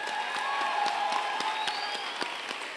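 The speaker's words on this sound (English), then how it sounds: "Let's give a round of applause for those heroes too." Audience applause at a book launch evening, a steady dense patter of clapping from a seated crowd, fairly close and sustained throughout.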